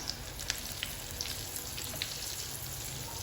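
Cassava fritters frying in hot oil, a soft, steady sizzle with scattered small pops and crackles, fairly close, with no talk.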